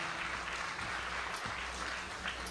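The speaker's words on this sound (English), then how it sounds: "Give yourselves a round of applause for coming out." An audience at a small-town talent show claps, a fairly faint, even patter heard from a distance under a hum of room noise for a couple of seconds.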